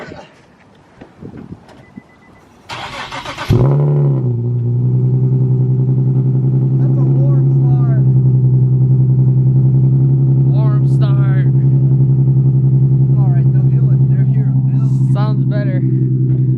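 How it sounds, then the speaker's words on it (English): Nissan 370Z cold start: a brief starter crank, then the engine catches with a loud flare and settles into a steady, rumbling idle close by, with faint voices talking in the background. "Now let's go ahead and get a warm, cold start."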